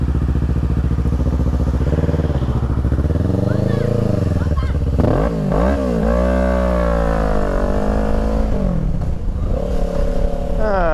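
Motorcycle engine on a ride loop through the Philippines, revving repeatedly in rising and falling sweeps, loud and close with steady idle rumble between.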